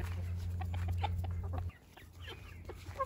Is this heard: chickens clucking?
yes